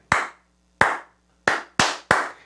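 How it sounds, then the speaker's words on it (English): Five sharp, close hand claps tapping out a simple rhythm with uneven gaps, each crisp and quickly decaying, with no voices. "I'm gonna clap it one more time."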